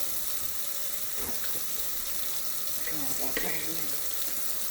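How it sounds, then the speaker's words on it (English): Water runs steadily from a sink tap during handwashing, a constant close hiss and splash with faint knocks and a voice briefly in the background. "Turn your sink off."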